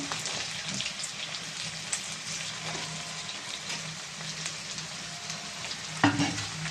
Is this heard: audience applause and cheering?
no